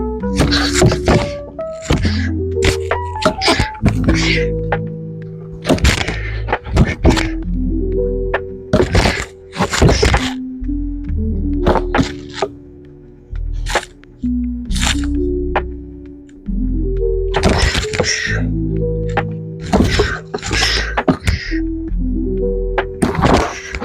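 Repeated hard strikes on a homemade wooden martial arts dummy, a rapid irregular series of loud woody thunks and cracks in bursts with short pauses, close and with no talking.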